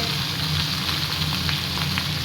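Eggplant frying in hot oil in a pan, a steady loud sizzle with faint stirring scrapes and no talk.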